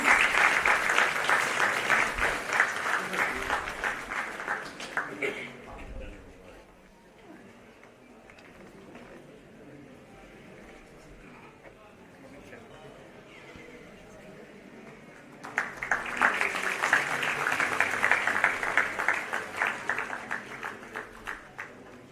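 Loud crowd applause at the inauguration of a national psychiatry association conference, fading into a quieter stretch of someone speaking before a second strong round of clapping swells up again near the end.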